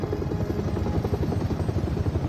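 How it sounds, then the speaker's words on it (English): An Umbrella helicopter in the video game Resident Evil 7, with a steady, rapid rotor chop that stays even and continuous throughout. "Yep, it's an umbrella chopper."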